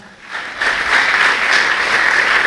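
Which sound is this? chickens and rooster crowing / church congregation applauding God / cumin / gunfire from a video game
church congregation applauding God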